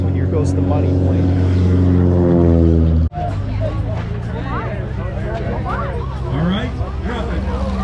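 A propeller airplane, part of a flying circus show, drones overhead with steady harmonic engine tones, then passes with a sharp cut as nearby spectators chatter and cheer throughout.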